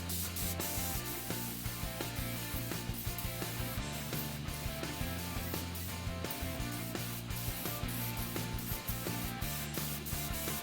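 An airbrush spraying paint freehand onto a personal painting, a steady close hiss running throughout with a low rhythmic compressor hum underneath and brief interruptions.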